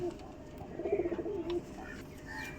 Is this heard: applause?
no